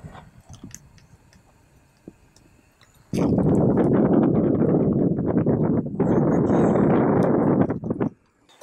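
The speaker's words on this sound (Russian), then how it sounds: "ветрище сильный." Strong wind on the Pechora River in winter buffets the microphone in a loud, roaring rush after a quieter start, with a brief dip before roaring again and cutting off.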